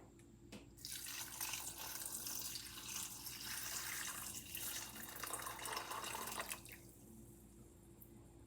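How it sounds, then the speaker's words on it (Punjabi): Boiled hot water pours over 200 grams of almonds in a bowl, a steady close splashing stream that runs for several seconds before stopping. "ਇਹਦੇ ਵਿੱਚ ਆਪਾਂ ਹੁਣ ਗਰਮ ਪਾਣੀ ਪਾਉਣਾ ਹੈ ਜਿਹੜਾ ਬੋਇਲ ਕੀਤਾ ਹੈਗਾ ਹੈ"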